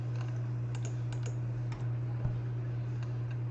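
The delete key on a computer keyboard is tapped repeatedly in a faint, irregular series of light clicks, heard close over a steady low electrical hum with no speech.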